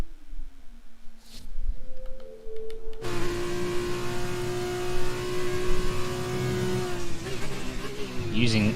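An F2 race car in a racing video game, its engine whining up through a steady high-pitched acceleration that stays loud and sustained, under commentary talk.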